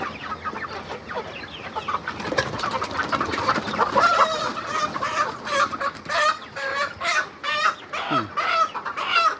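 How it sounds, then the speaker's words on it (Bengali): Chickens and roosters on a poultry farm cluck and squawk close by in irregular bursts that grow busier toward the end, with no talk. "বড় মোরগ নাকি এটা?"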